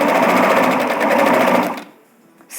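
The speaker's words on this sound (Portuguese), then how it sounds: "Agora é só puxar todo o elástico, vira ele certinho e passa a costura reta bem na beirinha." A sewing machine runs a straight seam right along the edge of fabric with elastic, buzzing steadily and loudly for about two seconds before stopping.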